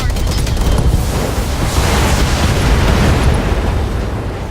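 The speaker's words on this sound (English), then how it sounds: "That was one fiery explosion. Enemy mech destroyed." A destroyed enemy mech in the Battletech video game bursts into a fiery explosion, a loud, dense roaring blast that rumbles continuously and fades slightly at the end, with no talk.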